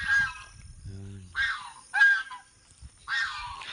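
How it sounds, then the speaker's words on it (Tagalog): Several loud geese honks in short bursts, close by, with a low rumbling sound between them. "Oh, may ano pa sila guys, may gansa pa sila."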